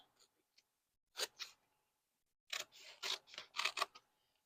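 Scissors snip through a piece of Sulky stabilizer in quiet, separate bursts: a pair of cuts, a pause, then a quicker run of several snips close up.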